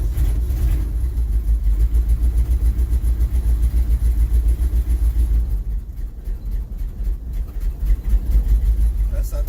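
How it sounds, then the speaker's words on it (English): A car engine cranks and turns over on a cold start, a loud continuous low rumble with pulsing churn throughout, a voice talking faintly at times. "we're probably gonna have to do some good cranking on this one"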